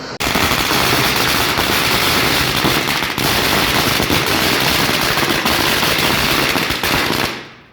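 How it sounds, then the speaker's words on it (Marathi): Dense, continuous crackling bursts of firecrackers set off to celebrate an election win rattle off rapidly like gunfire for several seconds, loud and close, then stop abruptly. "फटाके फोडून जल्लोष करण्यात आला"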